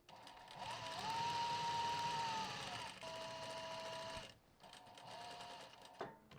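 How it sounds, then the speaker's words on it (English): Sewing machine stitching a small-stitch square around a zip pocket rectangle, running in a steady whirring hum for several seconds, pausing briefly at a corner, then resuming, with no talking. "sew a square all the way around the edge of the rectangle"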